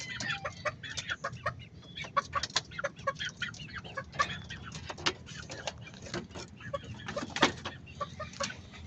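Young roosters (stags) and hens clucking in a Filipino yard, a busy run of short, close clucks and chatter from several birds over a low background hum.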